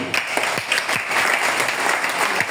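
A church congregation clapping during a sermon, a steady wash of many hands applauding at moderate loudness with some distinct nearer claps, voices faintly beneath.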